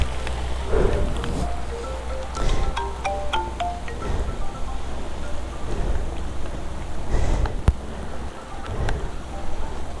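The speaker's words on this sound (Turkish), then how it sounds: "Oğlum nasıl yağıyor?" Steady heavy rain pours down continuously on the road during a Honda NT1100 motorcycle ride, with occasional louder splashes and a low rumbling undertone throughout.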